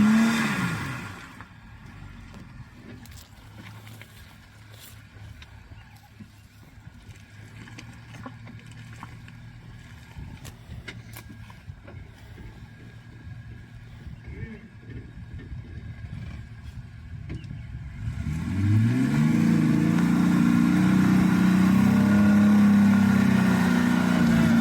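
A Jeep Rubicon on mud-terrain tyres drives off-road through a turn, its engine a steady low drone that swells into loud, close revving near the end.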